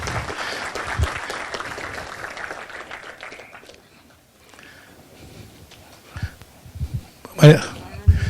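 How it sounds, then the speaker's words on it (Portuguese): Applause from a crowd fills the room at a seminar as a speaker is welcomed on stage, fading out midway, followed by scattered claps and movement while people talk. "com uma grande salva de palmas"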